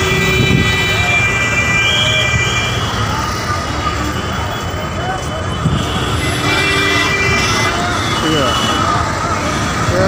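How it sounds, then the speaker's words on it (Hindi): A Delhi Metro train runs steadily with a continuous rumble and high tonal whine, close by and sustained, like riding inside a carriage. "दिल्ली मेट्रो।"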